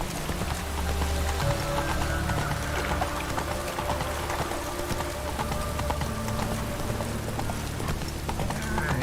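Roach the horse clip-clops steadily at a walk in a video game, hoofbeats repeating close by over a constant ambient bed with faint patter like rain.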